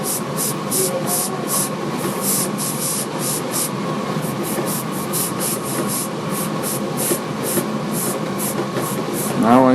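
An airbrush sprays air and paint onto a T-shirt in short, repeated hissing bursts, fairly close and steady in rhythm, with low background noise underneath.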